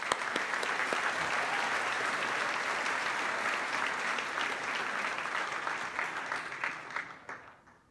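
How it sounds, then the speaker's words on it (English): Sustained audience applause at the SAFECON 2019 awards banquet, a dense, steady clapping from a full room that holds evenly for several seconds before thinning and fading out at the end. "They just give another round of applause."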